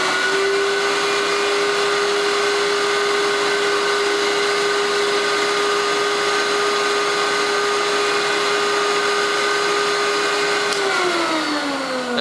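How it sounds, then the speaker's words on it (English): A Nitty Gritty record cleaning machine vacuums the wet side of a vinyl record after steam cleaning, giving a loud, steady motor whine with a constant pitch that drops as it winds down at the end. "So I'm going to vacuum the other side that's wet."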